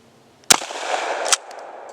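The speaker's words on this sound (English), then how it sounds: "Up next on my Kotek KS212 is birdshot." A Kotek KS212 shotgun fires birdshot at a computer. One sharp, loud blast is followed by a brief rolling echo and a second smaller crack of impact or report, with no speech.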